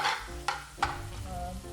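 Diced onions and peppers hit hot oil in a pan for a restaurant-style lamb shank curry, sizzling steadily up close while a utensil stirs with a couple of sharp scraping clacks.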